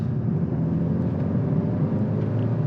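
Kia K5 GT Line 1.6 turbo engine in sport mode with Active Sound Design piped through the speakers, a steady low cabin drone and rumble held at an even level while driving, with no talk.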